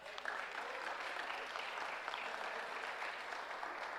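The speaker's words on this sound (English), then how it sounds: "Give them a round of applause." Moderate applause from an audience at a certificate presentation ceremony welcoming board members, a continuous even clapping heard from a slight distance with no clear talk over it.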